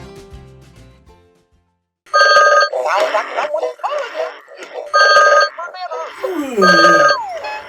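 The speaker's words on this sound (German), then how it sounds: "Heute Morgen, quasi noch mitten in der Nacht, hat mein Telefon geklingelt." A telephone rings in loud repeated bursts, with voices and chatter between the rings after a brief quiet start.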